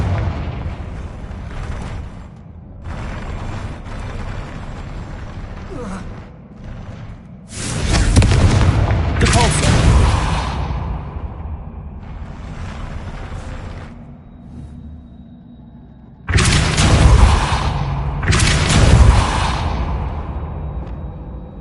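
Fiery Confringo spell blasts in the Hogwarts Legacy video game: loud booming bursts in two clusters, one around the middle and another near the end, over a steady game soundscape with quieter rumbles in between.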